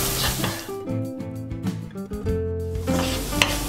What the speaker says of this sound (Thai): เดี๋ยวผัดให้กระเทียมกับพริกเขาแบบเหลืองๆนิดนึงครับ